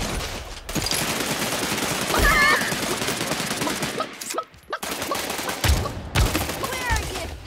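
Dense, loud gunfire in the battle royale game Realm Royale, a continuous rattling barrage with brief pauses and game voice callouts mixed in.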